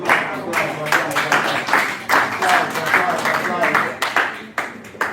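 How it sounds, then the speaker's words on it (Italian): Applause and clapping at a kizomba dance lesson in Italy, a steady run of claps across the whole stretch, mixed with voices and background noise. "applauso."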